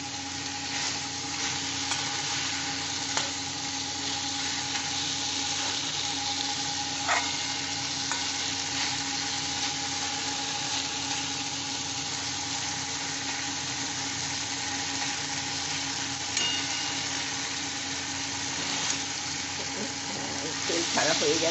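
Chilies frying in a little oil for a pickle chili curry, a steady close sizzle that runs unbroken throughout with occasional faint stirring scrapes and clinks.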